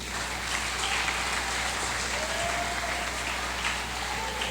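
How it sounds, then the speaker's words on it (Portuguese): A church congregation applauds with steady, continuous clapping that fills the room at an even level for several seconds. "Dá uma salva de palmas ao Senhor Jesus."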